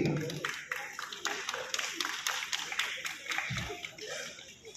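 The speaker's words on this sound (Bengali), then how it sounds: "আমরা একবার জোরে হাততালি হয়ে যাবে for Ms. Konika Banerjee" An audience at an OTT awards ceremony claps for Konika Banerjee, a brief scattered round of hand claps with a few distinct slaps, laughter and talk mixed in.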